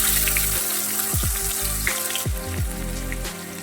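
Onions sautéing in a pan for a drumstick and ridge gourd tamarind curry give off a steady, close frying sizzle with a watery crackle, running continuously with faint tonal sounds underneath and no talking.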